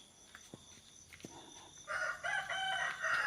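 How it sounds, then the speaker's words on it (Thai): A rooster crows before dawn, loud and fairly close, in a drawn-out call that begins partway through after a few quiet taps and soft background noise. "เสียงไก่ขันละพี่น้อง"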